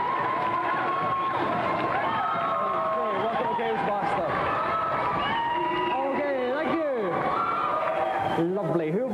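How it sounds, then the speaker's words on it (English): Studio audience at a TV video-game show applauding and cheering for three contestants, a dense continuous roar of clapping and crowd noise with a voice speaking over it. "A round of applause for our 3 contestants."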